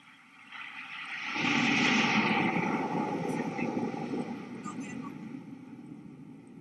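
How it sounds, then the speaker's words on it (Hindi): Hawk trainer jets roar past during an Indian Navy ceremony commissioning the aircraft carrier INS Vikrant. A broad jet rumble swells in after about a second, peaks, and holds loud and steady as it slowly fades. "और अब बारी है प्रशिक्षण के लिए उपयोग में लाए जाने वाले हॉक लड़ाकू विमानों की।"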